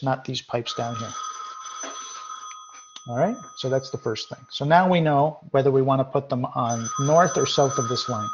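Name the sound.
telephone ringing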